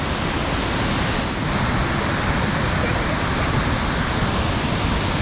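Kravica waterfall in Bosnia, a very wide cascade into clear deep water, gives a loud, steady, dense roar of rushing water with no break, heard close and alone.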